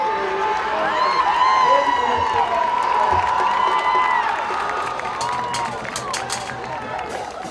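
Crowd at a varsity high school football game cheering and whooping, with shouts rising over a steady murmur and a few claps, while a voice carries through the noise.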